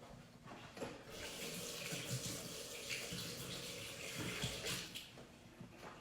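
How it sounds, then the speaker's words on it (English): Water runs steadily from a kitchen tap as hands are washed beneath it, a continuous close splashing stream filling the whole stretch without talk. "let me wash my hands"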